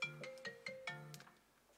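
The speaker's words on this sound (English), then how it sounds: "it's like a phone call. I should have like silenced my phone probably." A phone ringtone plays during a live sketching session, a melodic series of repeated electronic chime notes, fairly close and clear, fading toward the end.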